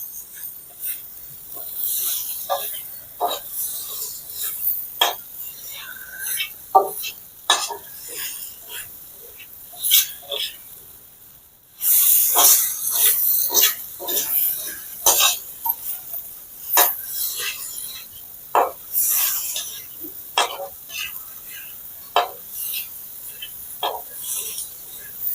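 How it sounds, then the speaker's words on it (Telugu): Veg manchurian masala is stirred in a pan over a village cooking fire, with intermittent scraping and sizzling clinks of the spatula, moderately close, plus a brief pause midway. "కంటిన్యూస్గా తిప్పుతూనే ఈ ప్రాసెస్ అంతా కూడా కంటిన్యూస్గా తిప్పుతూనే ఉండాలి"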